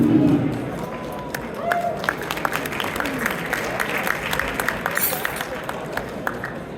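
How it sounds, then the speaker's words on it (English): Applause from an audience at a coalition awards brunch, a steady wash of clapping and crowd murmur lasting several seconds at moderate distance, with some chatter mixed in. "So clap it up for that one more time."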